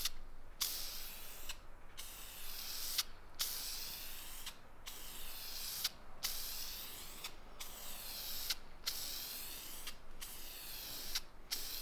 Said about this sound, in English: and now we're gonna throw the last coat of primer on this.